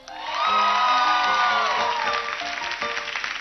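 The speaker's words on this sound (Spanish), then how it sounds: "Aplausos, primero que todo." A studio audience claps and cheers loudly at a televised competition, with whoops rising over a dense wash of applause that tapers slightly toward the end.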